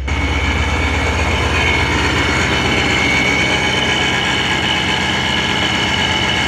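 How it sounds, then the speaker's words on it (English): A supercharged BMW E39 M5 engine idles steadily at close range, with a continuous high-pitched supercharger whine riding over the low rumble. "You can hear that supercharger whine."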